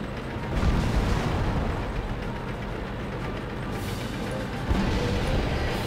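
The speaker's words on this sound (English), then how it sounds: "that artillery takes out that stupid TD" Artillery shell strike on a tank destroyer in World of Tanks, a steady low rumbling roar of battle with dull booming bursts, loud and continuous, with a sharper impact thump near the end.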